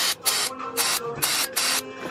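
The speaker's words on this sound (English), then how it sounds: "What we're about to do is spray brake cleaner, or you could use" Aerosol can of brake cleaner or WD-40 sprayed onto the exhaust hangers of a Nissan 370Z during an exhaust install, in four loud, close hissing bursts of about half a second each with short gaps between.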